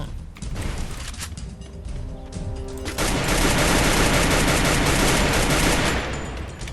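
Rapid gunfire in the mobile shooter Free Fire, test-firing a new gun: dense, loud bursts of automatic shots that grow heavier and more continuous midway, with no talking.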